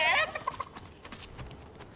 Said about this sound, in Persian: این مرغ